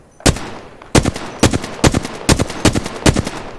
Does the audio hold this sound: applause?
no